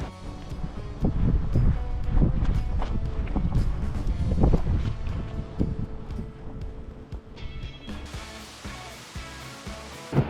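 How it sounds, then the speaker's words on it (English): Strong wind buffets the microphone on a mountain climb during a bike tour of the Golden Circle, a continuous loud rumbling roar with gusty surges and no talking. "It's still really windy, which is kind of helping"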